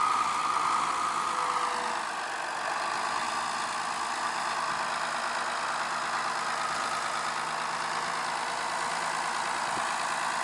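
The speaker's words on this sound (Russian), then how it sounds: "Трактор Белорус" Belarus 1221 tractor pulling a Nika 6 seeder while sowing winter wheat, its diesel engine droning steadily and loudly at close range with a constant mid-low hum and no pauses.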